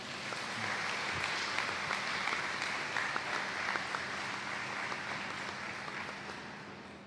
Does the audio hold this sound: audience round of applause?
yes